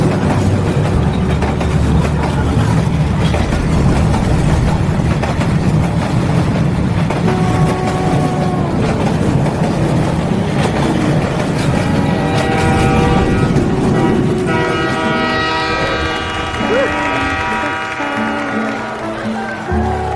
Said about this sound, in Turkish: o dev tren milimetrik bir hesapta o daracık aralıktan durmadan kararlı bir şekilde hızla geçiyor